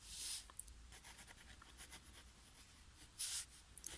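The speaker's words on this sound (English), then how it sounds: "I'm going to use a Parker Vector pen with black Quink ink in it and just outline my drawing with this pen" Fine-tipped Parker Vector pen loaded with black Quink ink scratches loose sketchy outline strokes across paper, soft intermittent scritches with brief louder bursts, close and quiet with no voices.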